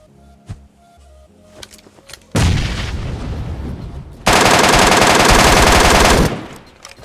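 Automatic gunfire in PUBG on the Miramar map: after a few scattered shots, a long, loud burst of rapid fire is followed by a second, even harder continuous volley that then fades.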